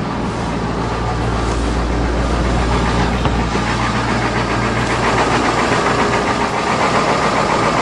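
A 1996 school bus engine idles on a cold day just after starting, a loud steady diesel rumble with a rhythmic knocking chug running continuously and close, with no talking.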